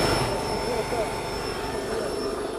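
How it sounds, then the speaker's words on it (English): A homemade jet engine made from a fire extinguisher roars with its afterburner lit, a dense steady rushing blast with a thin high tone riding on top, loud and close; speech may sit faintly underneath. "So that roar you can hear is the afterburner."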